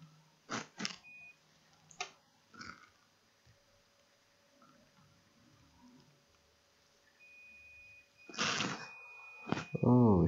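Sharp electronic beeps from a multimeter on continuity mode, probed across points on an Asus X540L laptop motherboard with a shorted MOSFET; several short beeps and one longer sustained tone, with quiet talk in between.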